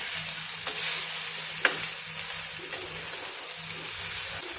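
Spicy pasta is stirred through gravy in a pan with a steady soft sizzle and scraping, broken by two sharp spoon clacks. Nobody speaks.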